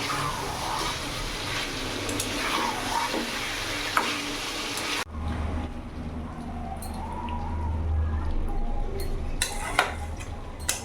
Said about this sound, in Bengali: এখন আমি ধনে পাতাটা দিয়ে দেবো কুচনো ভালো করে মিশিয়ে নেব